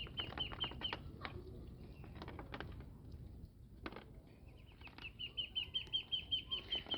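Muscovy ducks kept for fattening flap their wings in a flurry of soft beats, with a few clucking and chirping calls and a thin whistle over a low rumble.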